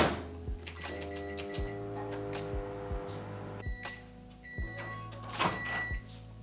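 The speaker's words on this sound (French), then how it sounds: "Et vous mettez ça au micro-ondes" A microwave oven hums steadily while heating porridge, with a quiet ongoing drone broken by several ticks and clicks, heard close and without talk.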